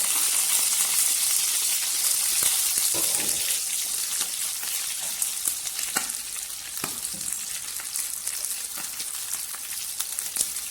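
Fish frying in a pan of hot oil, a steady loud sizzle and hiss running throughout with scattered crackles and pops, close by and uninterrupted.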